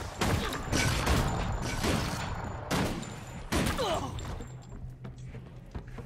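Bombs go off in the fantasy online game Guild Wars 2 as a series of loud, sharp blasts and crashing thuds spaced a second or so apart, with combat clatter between them.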